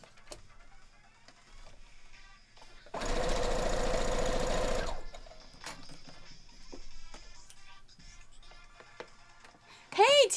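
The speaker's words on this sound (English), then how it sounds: "See, and you can help me sew." A sewing machine stitches a quilt with a Wonder Woman theme in one loud, steady burst of about two seconds. Quiet room noise surrounds it, and a brief high, whistly sound comes at the end.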